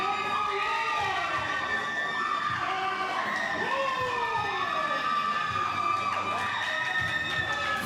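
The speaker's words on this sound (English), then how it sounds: "I think we're going to pause here while the crowd goes ballistic" A wrestling arena crowd roars and cheers wildly, with shrill screaming and whistling voices rising and falling continuously throughout, loud and sustained at close range.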